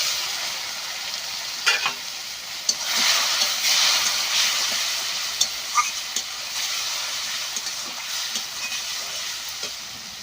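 Egg curry masala with chili powder and a splash of water sizzling and frying in a pan, with a spoon stirring and scraping in irregular clicks over a steady hiss, close and moderately loud.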